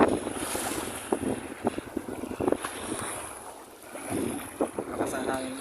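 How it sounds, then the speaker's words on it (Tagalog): Strong wind sweeps the shore while casting in front of Mayon Volcano in Legazpi, Albay, roaring against the microphone with waves washing in, loud and continuous with gusty surges. "Lakas ang hangin guys"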